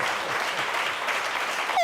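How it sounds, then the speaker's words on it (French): Church congregation applauding and cheering, a dense, steady wash of clapping that fills the whole moment at an even, loud level. "Quelqu'un donne des acclamations, des acclamations"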